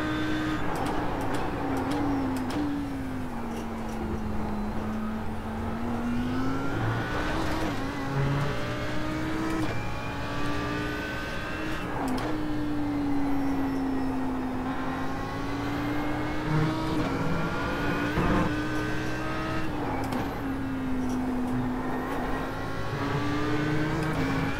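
GT3 race car at Monza in iRacing, its engine droning steadily loud throughout, pitch rising and falling in long sweeps as the throttle is modulated through gears, no talk over it.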